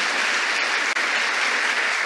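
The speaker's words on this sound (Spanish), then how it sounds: "¿Alguien le da un aplauso al Señor ahí donde está?" Congregation applause for the Lord at a Spanish-language church service, a steady dense wash of many hands clapping at once, loud and continuous with no voices over it.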